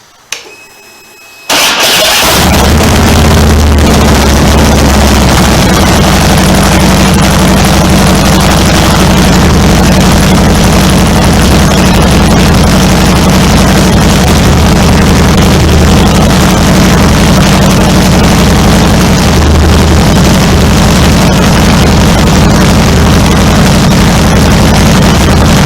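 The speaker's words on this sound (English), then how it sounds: "Now when I start the bike, it's going to be loud." A 2015 Harley-Davidson Road Glide motorcycle engine starts and then runs steadily at idle, a loud, close, continuous low rumble with no talking.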